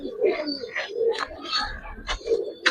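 A Muslim pair pigeon perched on someone's hand gives soft, throaty cooing calls in a rolling, repeated pattern, close and moderately loud, with faint background noise.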